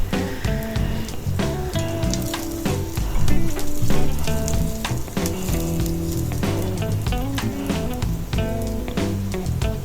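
Onions frying in a pan for a home-style chicken curry, a steady crackling sizzle under dense music-like tonal layers, loud and continuous throughout.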